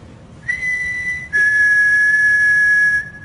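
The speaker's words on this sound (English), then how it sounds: "Please make the whistling louder so we can all hear it." A steady, clear high whistle sounds above a table during a night vigil in a supposedly haunted silent town, starting faint, then jumping louder and holding for nearly two seconds before cutting off, with no voices over it.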